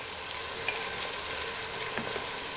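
Spices fry on a low flame for a matar sabzi, a faint, steady sizzle with light crackle and an occasional soft stir, with no voices.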